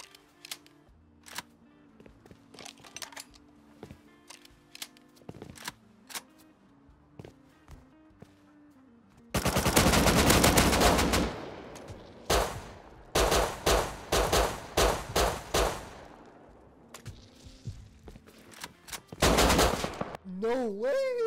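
Rapid automatic AK rifle fire in a Roblox Bedwars match, long loud bursts of shots with short pauses between volleys, preceded by quieter clicks and game sounds.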